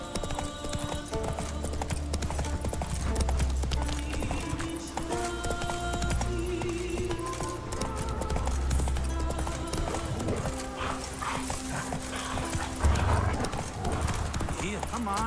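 Roach the horse gallops in The Witcher 3, steady hoof clip-clop running under dense game music and effects, with a brief whinny and a voice talking over it.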